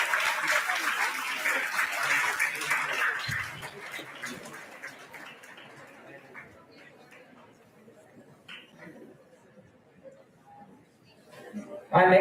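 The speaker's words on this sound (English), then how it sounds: "Please put a huge round of applause." An audience applauds an award winner at a dental sciences conference. Dense clapping fills the hall at first, then fades into scattered claps and murmuring chatter.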